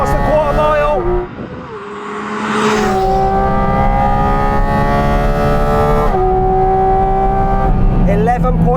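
A Porsche GT4 RS launches hard on a quarter-mile run, its engine screaming loud and close as it climbs through the revs with a sharp upshift and then pulls again, with a voice talking over it.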